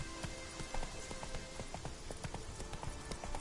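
Horse hooves clip-clop steadily in The Witcher 3, a quick, even gallop of sharp hoof strikes running through the whole stretch over a dense game soundscape.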